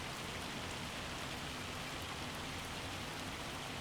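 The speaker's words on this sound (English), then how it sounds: "Despite the hail, there's not a lot we can do about that, unfortunately." Hail falling in Farming Simulator 25, a dense, continuous rattling hiss that is steady and unbroken from start to finish, with no voices.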